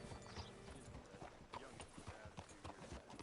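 Horse hooves clip-clop in the Red Dead Redemption 2 video game: a series of close, uneven hoof strikes over a quiet ambient bed, with a brief whinny-like sound mixed in.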